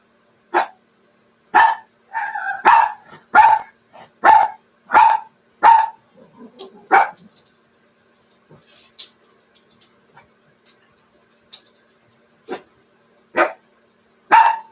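Several dogs bark in a burst of loud, sharp, close barks, about a dozen in quick succession with a short cluster of yips, then quieter scattered sounds before a few final barks.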